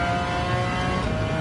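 A racing car's engine hums steadily at sustained revs in Gran Turismo 7, a continuous mid-loud drone with a strong tonal whine and no pauses.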